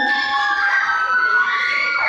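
A crowd at an awarding and closing ceremony, with sustained, excited cheering and shouting that carries on steadily, dense and moderately loud, with no clear individual voices.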